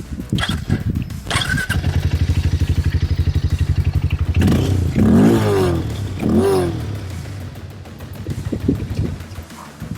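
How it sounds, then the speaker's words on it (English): Hero Mavrick 440 motorcycle with a 440cc engine cranks and fires up, settling into a rapid thumpy idle, then revs twice with deep bassy roars before dropping back to idle, loud and close. "Now I'm going to show you the exhaust note on the Mavrick 440"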